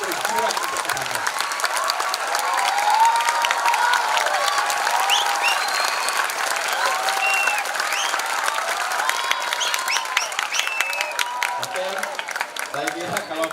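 Sustained applause from a crowd at a PKB political gathering about pesantren, steady and dense for the whole stretch with scattered whistles and cheers, with voices talking faintly through it.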